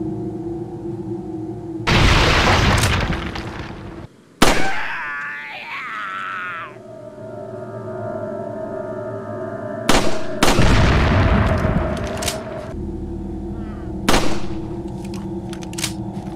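Dynamite explosions and gunfire in Resident Evil 4, several loud blasts and sharp shots separated by short pauses, with a brief shout and a quieter ambient bed between bursts.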